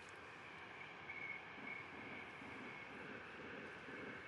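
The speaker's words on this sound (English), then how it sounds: "We're right near the West Coast main line, so you sometimes hear trains." A distant train passing on the West Coast main line near a lake and canal towpath, heard as a faint, steady low rumble with a thin tonal hum, continuous and far off, with no talking.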